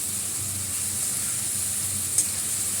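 Garlic sizzles steadily in a hot pan, a continuous loud frying hiss with a faint clink partway through and no talking.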